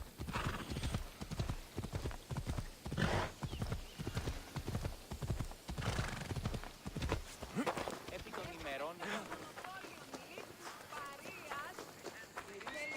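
Rapid clip-clop of a galloping horse in the video game Assassin's Creed: Odyssey, close and steady, with a whinny along the way and game sounds underneath.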